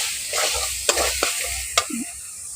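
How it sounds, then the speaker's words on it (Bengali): Potatoes and fish roe are mixed with spices and salt in a pan, producing a few sharp scrapes and clacks of the spoon over a low, continuous frying hiss. "লবণটা দিয়ে ভালো করে এখন মিশিয়ে নিচ্ছি।"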